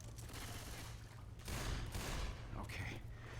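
Gunfire in Left 4 Dead 2 rattles in dense continuous bursts, loud and close, with a brief clicking reload sound near the end.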